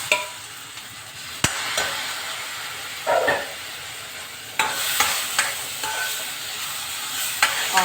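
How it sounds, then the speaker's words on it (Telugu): Tomato puree goes into a pan of onions fried light brown for a vanjaram fish pulusu. A continuous close sizzle and hiss carries scattered stirring scrapes and clinks throughout. "టమాటా ఇలా ప్యూరీగా కింద చేసుకున్నానండి. ఇలా ఇప్పుడు ఇది కూడా వేసేస్తున్నాను."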